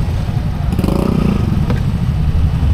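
Yamaha motorcycles of various kinds idle and rev while lining up at a large gathering, a loud steady engine rumble with clattering and a brief rise in revs, with no voices.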